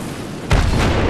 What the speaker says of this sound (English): 155mm artillery strike is commencing